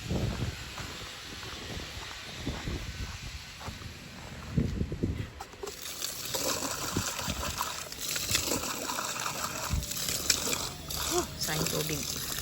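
Running water from a tap while food soaked in vinegar is being washed, a fairly close splashing and trickling that rises louder in the second half, with people talking over it.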